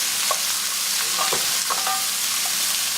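Onions fry for a green mango chicken dish, giving off a dense, loud, steady sizzle while a utensil stirs them in the pan with light scrapes and clicks.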